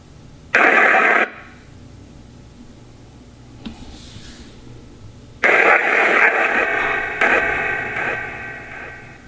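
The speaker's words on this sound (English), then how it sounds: "Now I'm using just this white noise sound bank." White-noise sound bank from a ghost-communication ITC app, loud bursts of harsh static that cut in abruptly, stop, then return longer, with a quiet hum between the bursts.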